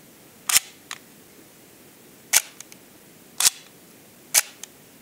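Leica II Model E rangefinder camera shutter firing four times, each a sharp, close mechanical click followed by a softer secondary snap, spaced about a second or two apart in an otherwise quiet room.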